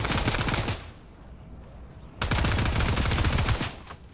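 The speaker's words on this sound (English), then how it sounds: "They got the rapid fire SMG" A rapid-fire SMG in a video game lets off two long, dense bursts of automatic fire, loud and close, separated by a brief pause.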